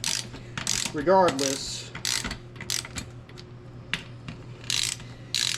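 A 3/8 drive ratchet spins lug nuts on a wheel during a tire job, giving rapid close clicking pawl bursts in several short runs, with a brief voice and a whistle-like tone near the start.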